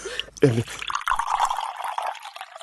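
Water is poured into a drinking glass, a rising trickling fill heard close by after a brief clatter, with people talking at the start.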